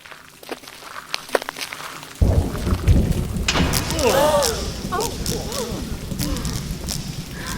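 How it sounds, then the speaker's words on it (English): Thunder follows a lightning bolt striking the tip of a tower's rod: a sudden loud crack, then a long heavy rumble that rolls on. A voice narrates over the rumble. "When the next bolt of lightning came down, it struck the rod right on the tip."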